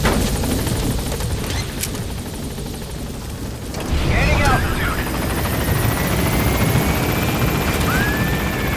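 A Pequod military helicopter lifts off from a landing zone in the video game Metal Gear Solid 5, its steady rotor roar loud and continuous, swelling partway through as it climbs, with radio voices talking over it.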